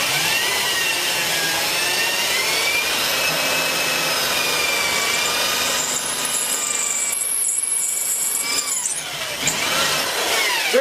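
A power drill bores a hole in wood while an edge plane is being made, its steady whining motor running continuously and close, with pitch shifting slightly as the bit bites and briefly easing near the end.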